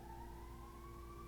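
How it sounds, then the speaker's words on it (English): A faint emergency siren wails outside in the distance, a steady rising tone heard through a room over a low hum of background noise, with no talking. "there's the sirens are going by."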